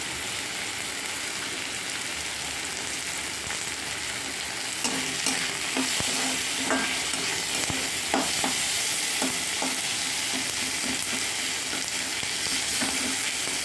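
Chopped green chilies frying in a pan for egg dopiaza, with a steady close sizzle throughout and stirring scrapes and clicks joining in from about halfway.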